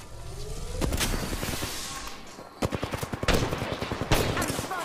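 Incoming automatic gunfire in a shooter video game rattles in quick, evenly spaced bursts, loud and close, after an opening whoosh and a few heavy single shots.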